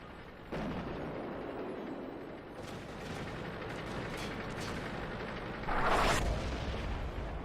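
A Type 97 Chi-Ha tank cannon shot in a tank video game, fired amid steady rumbling battle noise, with a bright, loud burst standing out near the end.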